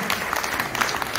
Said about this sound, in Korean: 고생하신 분들 박수 좀 쳐주세요.